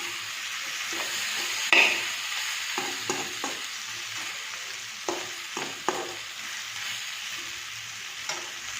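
Pork and tomatoes fry together in a pan, with a soft, steady sizzle close by and occasional sharp spoon scrapes and taps as the mixture is stirred.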